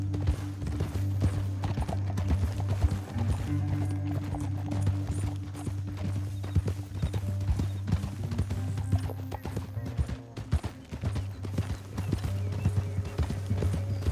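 Horse hooves gallop in Red Dead Redemption 2, a fast, continuous clip-clop rhythm over a low rumbling background that stays steady throughout.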